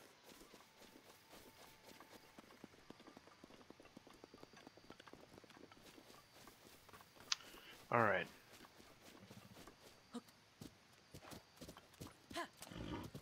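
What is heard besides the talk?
horse hooves clip-clopping in The Legend of Zelda: Breath of the Wild video game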